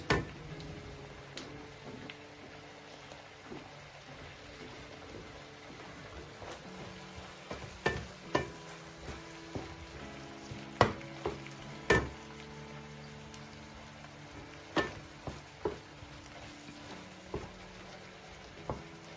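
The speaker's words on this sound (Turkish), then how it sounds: "2-3 dakika kavurduktan sonra biberlerimizi ilave ediyoruz." Peppers sautéed in a pan alongside onions for a Kayseri yağlama filling, a quiet continuous sizzle broken by sharp clicks and taps of a utensil against the pan, growing more frequent in the second half.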